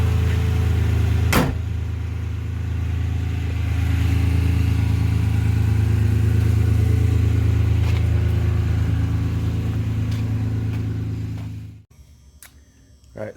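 A 2014 Chevrolet Silverado pickup truck with a newly replaced rear end driving, its engine giving a steady, loud, low droning hum that swells slightly before cutting off abruptly near the end.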